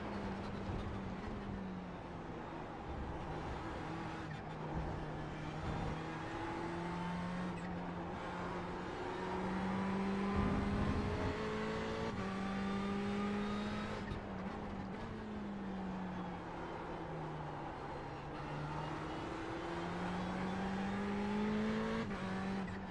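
A Ferrari 488 GTE race car engine at Spa drones steadily from onboard, its pitch rising and falling as it accelerates and shifts through the gears over several laps' worth of corners.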